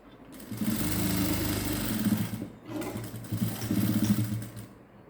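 Sewing machine stitching the side hem of mosquito net fabric for a window screen, running in two close, steady whirring bursts with a brief pause between them.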